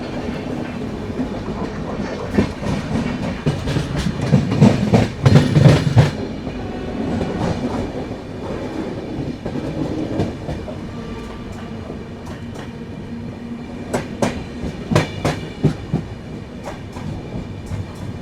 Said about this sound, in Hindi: लो भाई साहब, अपनी सबरी एक्सप्रेस यहाँ से निकल गई